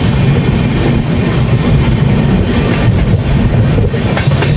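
A passenger train running between Howrah and Ghatshila during rain, a loud continuous rumble and rattle from inside the carriage, steady throughout.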